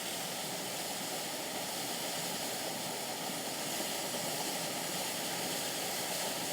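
A waterfall at Grey Mare's Tail in the Scottish Borders pours in a constant broadband rush, steady and moderately distant, with no other sounds over it.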